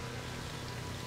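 Steady rain falls in the Splinter Cell Pandora Tomorrow video game, a soft continuous patter of drops on surfaces with no talk, faint and even throughout.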